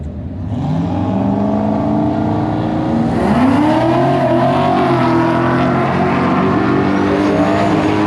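A 10.0-class Mustang drag car launching down the strip at a race-week event, a loud close engine roar with rising revs and a sweeping pitch that holds strong throughout.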